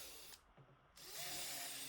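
An Ozito 18V cordless drill runs at a comfortable speed, its steady high whine dropping away briefly, then resuming strongly as it bores through the material.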